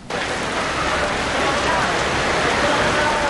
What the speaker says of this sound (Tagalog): malakas na buhos ng ulan pasado alas 4 ng hapon ng sumalubong sa mga motorista